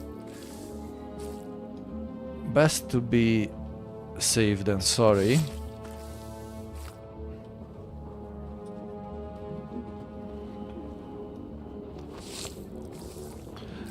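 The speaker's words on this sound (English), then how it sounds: "extract a bit more blood that we will be able to turn into water" In the Dune Awakening video game, blood is drawn out with a wet squelching gurgle in two short bursts over a low steady ambient hum, while a person talks quietly.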